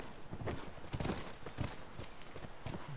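Horse hooves clip-clop at a steady walking rhythm in the video game The Last of Us Remastered on PS4, faint and soft with a rustling background.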